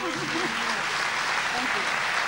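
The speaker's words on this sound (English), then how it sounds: "How about a big round of applause?" Audience applause at a 1991 awards ceremony: steady, dense clapping from a crowd throughout, with voices faintly mixed in underneath.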